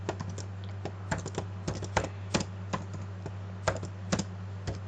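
Keystrokes on a computer keyboard while entering text for a Scratch game, irregular clicks of varying loudness close by over a steady low electrical hum, no voices.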